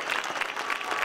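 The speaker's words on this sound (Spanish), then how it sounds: "A David quiero que le dé un fuerte aplauso" Dense crowd applause for David Ramos at a night survival horror zombie event in San Roque, with over 500 people present; steady, close clapping fills the whole brief moment without pause.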